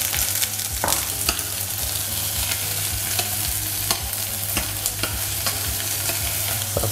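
Onions frying and being stirred in a pan, a loud continuous sizzle up close with regular scraping strokes of a spoon and a low steady hum underneath.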